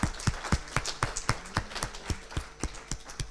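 Audience applause for three guests at the close of a round-table session on algorithm transparency: a fairly quiet, steady patter of individual claps from a small group, close by, with no talk.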